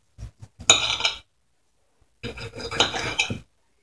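A knife slices into a stuffed London broil steak in two separate bursts of scraping and cutting, close and crisp, with a quiet pause between strokes.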